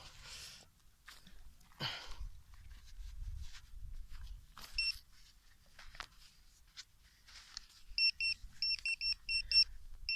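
Quiet outdoor rustling and scattered handling noises, then a series of short, evenly spaced electronic beeps from a metal detector near the end, a coin-like signal.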